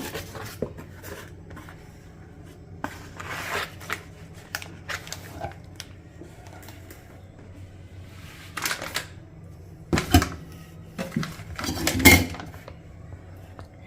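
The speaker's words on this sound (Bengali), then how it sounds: "আজকে হবে লিসিয়াস চিকেন এই প্যাকেট খোলা হচ্ছে।" Plastic packet of Licious 500 g small curry cut chicken being opened in a home kitchen, scattered crinkles and rustles with sharper tearing bursts near the end, close and fairly quiet.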